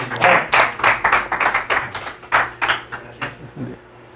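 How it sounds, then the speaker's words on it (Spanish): A small audience claps after a physics seminar talk, with distinct hand claps in a loose rhythm that grow sparser and fade out near the end. "Pues un aplauso más para Carlos"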